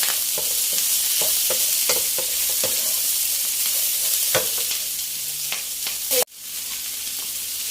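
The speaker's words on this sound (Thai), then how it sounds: "ไปคั่วไปผัดให้เข้ากันเลยค่ะ" Steady sizzling of sliced lemongrass, galangal and fresh chilies dry-frying in a hot pan, with repeated scraping and stirring clicks throughout, then a brief dropout near the end.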